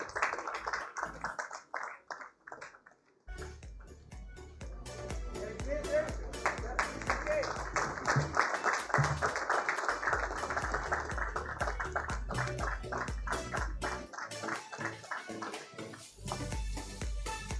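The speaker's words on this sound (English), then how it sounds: "A warm round of applause for Ms. P.T. Usha, please." Audience at a sports business summit award ceremony claps for a lifetime achievement honoree, a sparse, uneven patter of hands that swells into fuller applause, with some talk heard before it and music or voices toward the end.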